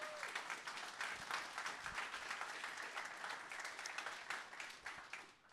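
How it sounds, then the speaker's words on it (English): Audience applause for event sponsors during welcome remarks at a conference, a steady wash of clapping from a room of people lasting several seconds without speech. "If we could do a round of applause"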